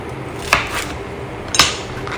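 A knife cuts the ends off small cucumbers on a board while making an Italian-style pasta salad: two crisp, separate chops about a second apart, close and fairly loud against a quiet kitchen.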